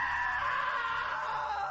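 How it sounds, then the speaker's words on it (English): A sustained, wavering scream in the video game What Remains of Edith Finch, a single drawn-out cry held at steady loudness for nearly two seconds over a low background hum. "Now that was a great scream."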